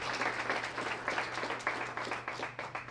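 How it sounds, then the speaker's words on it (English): An audience at a school Student of the Month ceremony claps steadily for the sponsors, a dense round of applause at moderate, distant level with a low steady hum underneath. "So let's give them a great round of applause."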